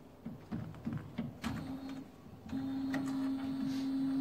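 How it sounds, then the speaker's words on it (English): An Epson print head unit inside an A3 UV flatbed printer powers on: a few soft mechanical clicks and knocks, then a steady motorized hum that starts abruptly and holds at an even level. "Then we click start to power on the top Epson printer."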